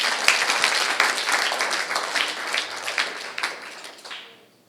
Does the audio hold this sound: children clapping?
yes